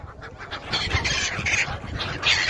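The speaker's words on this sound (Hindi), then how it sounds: "और चिड़ियों को दाना खिला रहे हैं।" Birds gathering for grain at the Sangam river confluence, a dense chorus of squawking and calling at moderate distance over a steady outdoor background of water and crowd.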